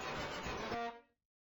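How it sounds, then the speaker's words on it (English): A single vast vehicle horn honk, a loud broad blare held for about a second before cutting off abruptly into silence. "It ends with the honk. The vast honk."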